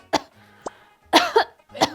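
A woman coughs repeatedly, with one sharp cough, a small throat sound, and then a louder double cough and a final cough, close up with no talking.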